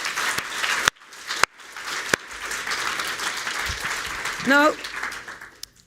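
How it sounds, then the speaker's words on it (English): Round of applause from an audience at a talk on ending child marriage, dense steady clapping throughout with a few sharp claps standing out and a brief spoken word near the start. "So I would like to ask for a huge round of applause for all of them."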